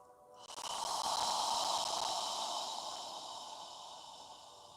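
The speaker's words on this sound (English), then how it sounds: "As you inhale through your nose, allow your abdomen to expand, and as you exhale, imagine you're fogging a mirror with your breath." A deep yoga breath is exhaled slowly through an open mouth, as if fogging a mirror, giving a close, airy, hollow rush that swells quickly and then gradually fades over several seconds, with no talking.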